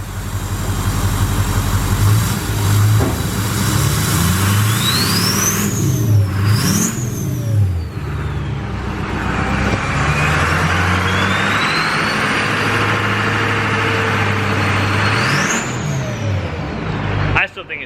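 A Duramax LLY diesel truck engine fitted with a downpipe and muffler revs repeatedly from idle, climbing and dropping in several loud close pulls, with people talking over the deep engine rumble.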